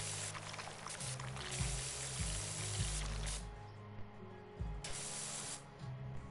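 Pressure washer in the Pressure Washing Simulator video game spraying water, a steady broadband hiss with a repeating low machine hum and brief thumps, broken by short pauses, moderately loud with no talking.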